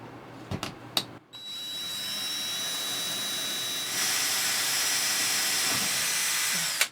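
Drill driving brand new self-tapping screws while removing the AC unit from a 2006 Fleetwood Niagara pop-up camper, a few knocks first, then a steady high whine that rises in pitch and runs several seconds, close and loud, no talking.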